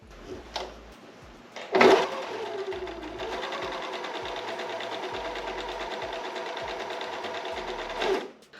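A serger sewing machine that is slow to engage, with a sharp clunk followed by a steady, close mechanical whirr of stitching that runs for several seconds before stopping with another knock.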